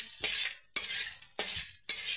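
Ginger and fennel tossed into oil with sizzling five-spice tempering for urad dal, a close crackling sizzle broken by three quick stirring sweeps in steady rhythm.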